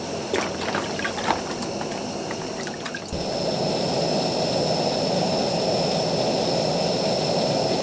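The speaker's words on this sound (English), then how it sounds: "I've got a little bucket of water here. It's quite useful because it just helps me clean the crab." Water sloshing and splashing in a small bucket as crabs are cleaned outdoors by the ocean, with dripping and tapping early on, then a steady loud rush of water filling the rest, no talking.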